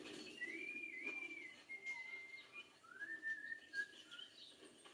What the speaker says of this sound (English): Is that guy just singing or whistling one of the songs of the game?